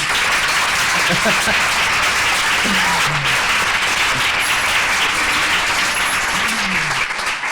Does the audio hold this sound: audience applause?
yes